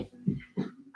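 A little puppy lets out several short, close whimpers and soft whines in quick succession, nasal and high, in a quiet room.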